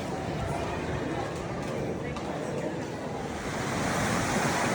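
Ocean surf washing up on the beach at Desaru in Johor, Malaysia, a steady loud roar of breaking waves with wind and people's voices mixed in throughout.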